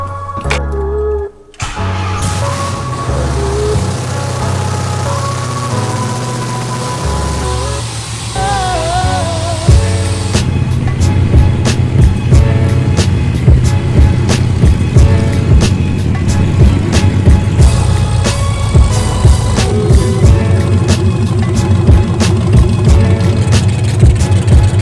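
A Mazda Miata fitted with a swapped Hellcat V8 engine runs as the car is moved, giving a loud, deep, rumbling engine tone that grows rougher and busier about halfway through, with no talk.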